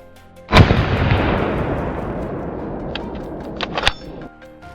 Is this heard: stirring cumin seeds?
no